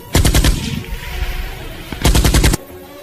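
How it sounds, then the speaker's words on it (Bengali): Two loud bursts of gunfire from a gun, each a rapid string of about four sharp close shots, separated by a quieter stretch of rumbling noise. "আমি আর কিছু না বলে বন্দুক তাক করে তার দিকে 4টা গুলি করি।"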